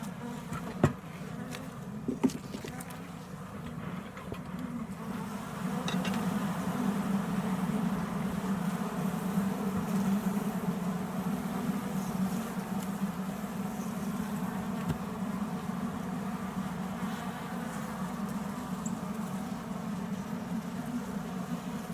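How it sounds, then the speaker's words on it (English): Newly hatched honeybees buzzing in a dense, continuous drone that swells after a few seconds and holds steady, close by, with a few light knocks early on. "Got some new bees, baby bees here."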